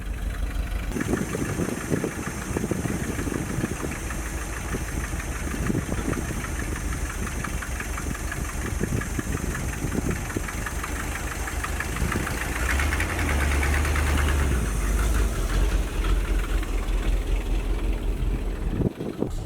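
An old Dodge truck engine, revived after sitting for twelve years, idles steadily while warming up, with a continuous rough knocking running through the whole stretch, loud and close, with no talk.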